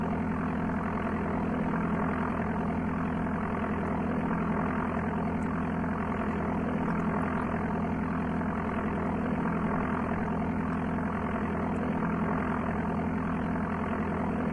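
The simulated aircraft engine in Flight Simulator II on the Amiga drones as a constant, even hum with no change in pitch throughout.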